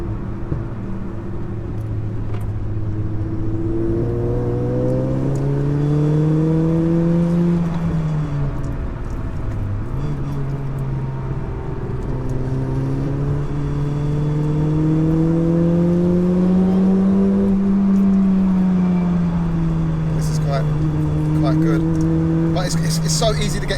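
A 607bhp SEAT Leon Cupra laps a race track, its engine droning steadily with pitch rising and falling through acceleration and lifting off, heard from close by with little interruption.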